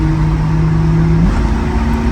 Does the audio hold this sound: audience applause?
no